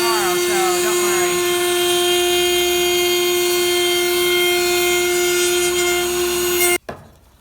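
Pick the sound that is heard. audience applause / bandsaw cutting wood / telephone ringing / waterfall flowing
bandsaw cutting wood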